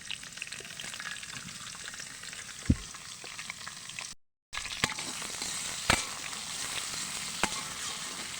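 Green chilies, chopped onion, garlic and cinnamon fry in hot oil in a wok for beef biryani, a dense close hissing sizzle with occasional sharp pops and crackles, briefly cut by a short gap.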